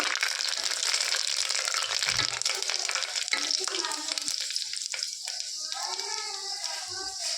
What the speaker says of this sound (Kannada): ಸ್ವಲ್ಪ ಕರಿಬೇವು ಸೊಪ್ಪನ್ನು ಹಾಕ್ಕೊಂಡು ಇದೆಲ್ಲನೂ ಚೆನ್ನಾಗಿ ಫ್ಲೇವರ್ ಬಿಡೋವರೆಗೂ ಚೆನ್ನಾಗಿ ಫ್ರೈ ಮಾಡ್ಕೋಬೇಕು